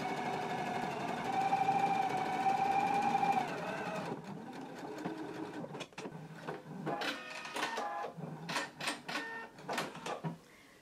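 A sewing machine stitches along a basting line on a pair of pants, first a steady whirring run for about four seconds, then a series of short uneven bursts of stitching with pauses between, close and moderately loud.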